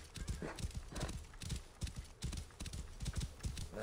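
A horse galloping under its rider in the video game Assassin's Creed Origins, rapid rhythmic hoofbeats at a steady pace, close and moderately loud, with no talking.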